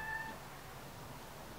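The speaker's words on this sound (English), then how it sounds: "It's my cat meowing in the background." A domestic cat gives one brief, faint meow at the start, heard over steady background hiss in a room.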